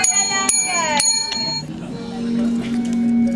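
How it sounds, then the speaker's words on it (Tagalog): Bell rings in a noisy live-selling session, with two sharp bright strikes near the start followed by ringing tones fading into a busy background of voices and music. "It's the bell. it's a bell."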